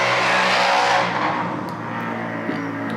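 A moped speeds past on a busy London street, its engine loud and close at first, then fading into general traffic noise within about a second.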